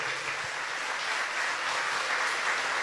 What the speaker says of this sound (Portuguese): Um aplauso, pode aplaudir você.